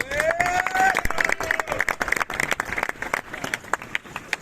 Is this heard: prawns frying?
no